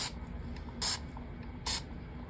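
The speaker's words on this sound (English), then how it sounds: "So we're giving him a good spray. I see the alcohol in his tail." Alcohol is sprayed onto a whale mold in two short, bright hissing bursts, close by and distinct against a low background noise.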